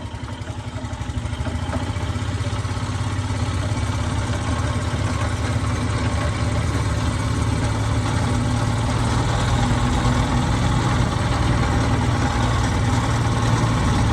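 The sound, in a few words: Hyundai golf cart motor running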